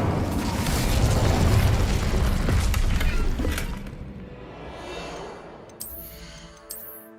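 An Incendio fire spell cast in Hogwarts Legacy, a loud roaring, crackling whoosh lasting several seconds before fading into quieter game ambience with a couple of faint bright chimes near the end.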